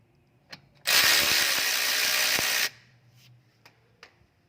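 A single loud burst of about two seconds, likely a powered ratchet or socket tool, works the brake caliper bolts on a 2014-2019 Lexus IS 250 F Sport, with a few faint clicks and taps of handling around it.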